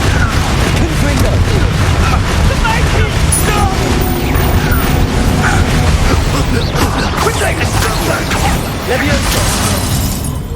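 Confringo blasting spell explosions in the Hogwarts Legacy video game, with dense, continuous crashes, booms and shattering debris during loud spell combat. A voice speaks over the barrage.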